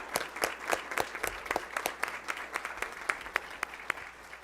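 Sparse, scattered clapping from a small audience at a school board of education meeting, individual claps distinct and moderately quiet, with no talking over it.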